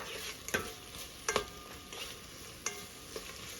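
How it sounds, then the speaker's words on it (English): A spoon stirs thyme through sizzling ingredients in a pot for Guyanese-style fried rice, with a few distinct scraping clanks over a soft, steady frying hiss, close and fairly quiet. "Give it a stir."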